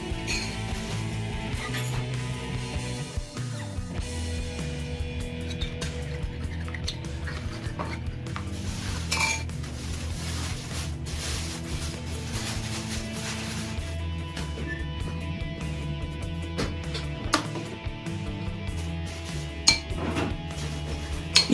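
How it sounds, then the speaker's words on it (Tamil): Eggs and cheese get whisked in a bowl with steady scraping and clinking of a utensil against the sides, continuous and close, with occasional sharper clinks and no talking. "இதுல நம்ம சீஸையும் சேர்த்து அடிச்சுக்கலாம்"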